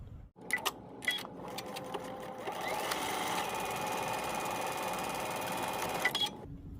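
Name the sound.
sewing machine stitching a dart seam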